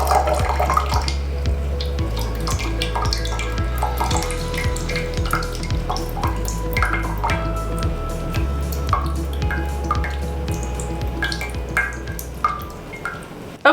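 Water poured slowly over soil blocks in a seed-starting tray, a steady trickling and running wash with small drips and splashes, close and continuous throughout without any talk.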